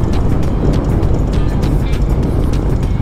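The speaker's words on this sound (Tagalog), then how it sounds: "Ito nga yung Express 500 Cruiser mga brother." An FKM Express 500 Cruiser motorcycle engine rumbles steady and loud up close, a continuous throaty running sound with no talk over it.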